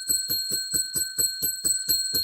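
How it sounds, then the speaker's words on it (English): A small bell is rung rapidly about ten times in an even, quick rhythm, each ding bright and ringing close by, with no talk over it. "Let's do the bell."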